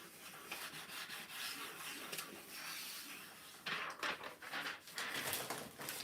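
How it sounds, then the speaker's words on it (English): Continuous dry rubbing and scraping as a transfer carrier sheet is burnished down onto a thrifted oval wood box, with uneven strokes that swell and pause, close and fairly quiet. "I just take my sheet, my carrier sheet, rub over it, I burnish it, make sure it's all laying down real good"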